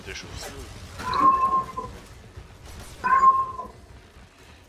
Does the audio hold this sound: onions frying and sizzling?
no